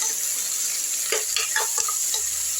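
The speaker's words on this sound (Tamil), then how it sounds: "நல்லா வதங்கணுங்க எவ்வளோ ப்ரௌனாக வதக்க முடியுமோ வதக்கிடுங்க" Onions sautéing in a pan for mutton bone curry, a constant hiss of sizzling with a few scraping stirs, close and moderately loud.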